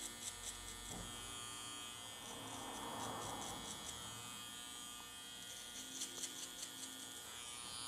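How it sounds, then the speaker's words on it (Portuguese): An electric hair trimmer set to zero buzzes steadily while cleaning up and defining a mohawk fade, a faint continuous hum with small rises as it meets the hair, and no speech. "Agora eu já vou com a trimmer, já vou com o zero aqui, limpando e definindo o zero mesmo."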